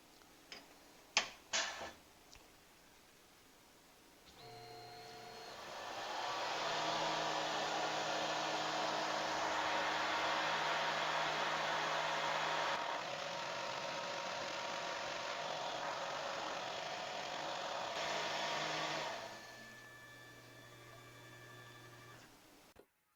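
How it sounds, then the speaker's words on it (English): A CNC machine engraves a small logo, its spindle whine rising after a few sharp ticks and holding steady with a broad hiss and tonal hum for about fifteen seconds before winding down. "Finally, we engrave a little logo."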